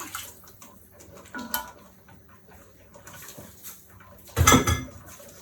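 Dishes and cutlery clink in a kitchen sink while a tuna noodle casserole is being cooked, a pressure cooker kept at about 11 pounds. Faint scattered clatter runs throughout, then a loud, brief burst of clanking and splashing near the end.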